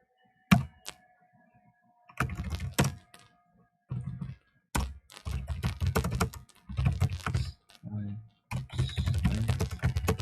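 Typing code on a computer keyboard, bursts of rapid close key clacks and heavier thunks of the space or enter key, separated by short pauses, with a faint background hum.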